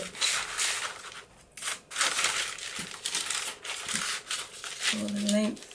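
Scissors cut through paper for a Christmas junk journal: close, uneven rustling and crisp slicing strokes in short bursts, mixed with paper handling.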